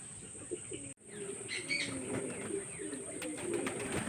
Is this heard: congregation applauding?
no